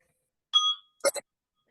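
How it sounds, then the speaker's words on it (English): Two short bright chimes from a timer bell: a sustained ding, then a quicker double strike, clear and close in an otherwise silent room. "There's going to be the sound of a bell."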